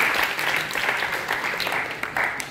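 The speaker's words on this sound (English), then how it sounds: "round of applause for Team Happy." An audience at a hackathon claps for a presenting team, a steady burst of applause that stays fairly even, with a few sharper claps standing out toward the end.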